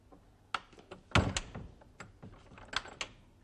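A door is shut in a 1970s British TV drama, with a series of close, sharp thunks and knocks, the loudest in the middle, amid small handling clatter and no speech.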